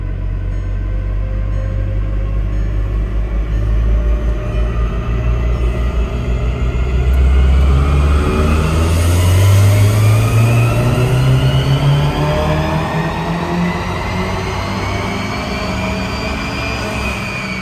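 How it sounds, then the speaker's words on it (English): Volkswagen Mk7 Golf R fitted with a Garrett PMAX turbo in a fourth-gear pull on the street, engine drone rising steadily in pitch as it accelerates, loud and sustained throughout with no voices. "So let's do a pull here now that the car is dialed in with the PMAX turbo"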